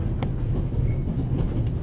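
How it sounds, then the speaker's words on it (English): A train on the Orient Express in the video game The Raven Remastered rattles along with a steady low rumble and faint rhythmic clicks, heard alone with no talk. "The noise on this train is driving me crazy."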